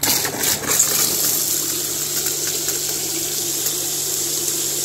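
A small aerator pump sprays and circulates water inside a DIY cooler livewell, giving a steady close splashing wash with a constant low motor hum throughout, no voices.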